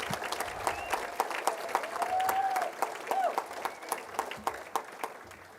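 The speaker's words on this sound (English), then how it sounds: "Please stand so we can applaud you." Audience applause at an Indiana girls basketball hall of fame award banquet honoring a championship starting five, steady clapping from a crowd throughout with a voice speaking over it.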